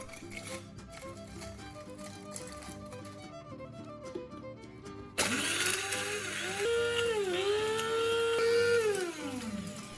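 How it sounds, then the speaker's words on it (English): Soft music plays, then a blender grinding dried tomatoes into powder kicks on with a loud whirring roar, its motor pitch climbing and then winding down near the end. "Now place everything into a blender and blend until you have a fine powder."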